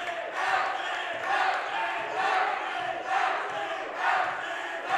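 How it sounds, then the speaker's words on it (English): Crowd noise swelling at a girls' Class A quarterfinal high school basketball game, Clarion Area at North Clarion, a steady roar of voices in a gym rising in waves and staying loud throughout. "Crowd's starting to get fired up a little bit."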